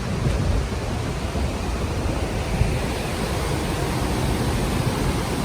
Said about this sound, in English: Ooh, that's a nice little waterfall there.